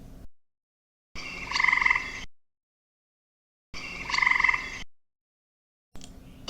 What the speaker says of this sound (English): A tree frog chorus on a rainy season night.